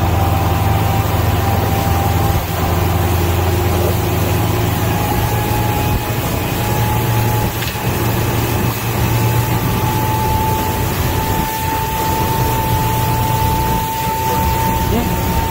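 A 2008 Pro-line 23 Express boat runs at speed on the water, its engine a loud, unbroken drone with rushing wind and spray throughout.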